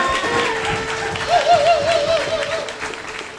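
Audience applause at a Poor People's Campaign gathering for a reverend after his sermon: a steady wash of clapping fills the room throughout, with a faint whistle-like tone riding above it midway.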